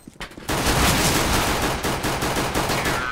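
Sustained burst-fire gunshots in CS:GO on Dust II, a loud, dense rapid series of cracks starting after a brief pause and continuing without letup, with no voices over them.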